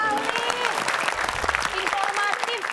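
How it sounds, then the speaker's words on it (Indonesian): Studio audience applause fills the room, a dense, sustained patter of many hands clapping, with voices talking over it. "kita kasih tepuk tangan"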